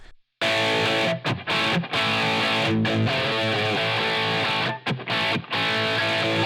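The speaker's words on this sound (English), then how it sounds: "Already you hear those distortion characteristics coming." Guitar through a Line 6 Helix LA Studio Compressor model pushed hard into clipping, giving a loud, dense, distorted sustained tone broken by several short gaps, with no talking.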